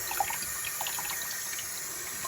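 Tap water running steadily into a sink while a kitchen sink tailpiece is rinsed out, a close continuous splashing stream with small irregular spatters.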